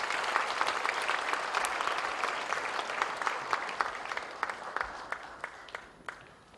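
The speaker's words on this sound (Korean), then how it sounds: "내려갈 때 큰 박수로 격려해 주시기 바랍니다." Applause rises in a Korean church ordination thanksgiving service, a congregation clapping in a dense wash that gradually thins into fewer, distinct claps as it fades out.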